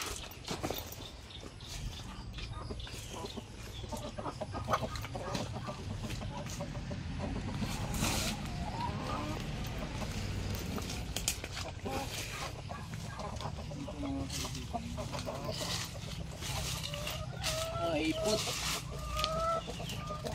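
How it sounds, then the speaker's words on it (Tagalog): Chinese bamboo chickens at a poultry coop in Tarlac City, Philippines, cluck and call steadily over a noisy outdoor background, with intermittent bird calls rising above the din and a person speaking at times. "Chinese bamboo chicken."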